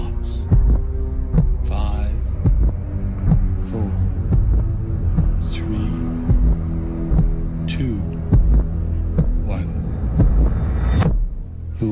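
Slow, deep heartbeat thumps in a movie trailer, repeating at a measured pace under a low hum and rumbling score, with sparse higher accents and no talk over it.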